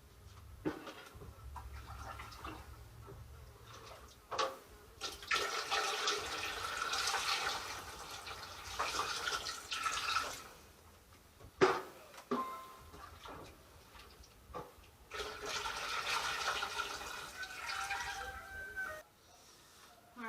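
Cold water runs into a canning pot in two long pouring stretches separated by brief pauses and a few knocks, moderately close with no talking.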